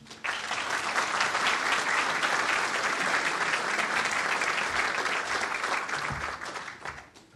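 An audience at a lecture breaks into sustained applause, dense and even clapping from a crowd filling the room for about seven seconds before tapering off.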